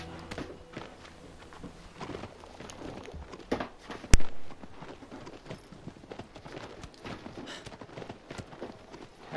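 A horse's hooves clop and patter at a quick gallop in Shadow of the Colossus, fairly soft and busy, with one louder thump midway.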